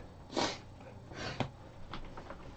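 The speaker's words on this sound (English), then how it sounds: "I'm getting my live stream sniffles back." A person sniffles several times in short, separate bursts, close and fairly quiet, with brief pauses between the sniffs.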